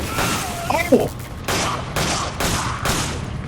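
Gunfire in the co-op video game Resident Evil 5: a burst of shots followed by several evenly spaced broadband bangs, moderately loud, with talk in the background.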